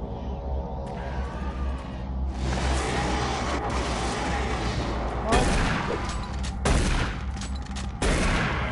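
Shotgun fire and combat noise in Doom 3, a dense roar of blasts and booms over a low droning background, with a few sharp loud reports standing out near the end.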